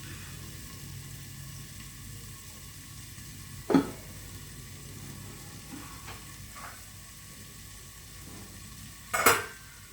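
Curry leaves frying in hot oil for mint rice, a steady low sizzle throughout, broken by two sharp utensil clinks against the pan and a few faint taps, close and with no speech.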